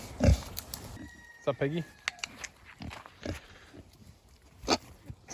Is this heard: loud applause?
no